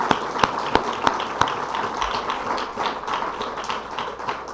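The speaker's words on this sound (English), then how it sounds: "Give them an applause." Applause from the audience at a rent stabilization bill signing press event, a brief scattered round of clapping with a few sharp louder claps early on, fairly near and with no talk over it.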